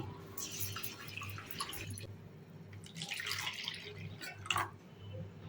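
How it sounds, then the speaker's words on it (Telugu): Faint splashing and trickling water as urad dal is swirled and rinsed in a bowl, with soft drips and a low background hum. "మినప్పప్పును ఒకసారి శుభ్రంగా వాష్ చేసుకోండి"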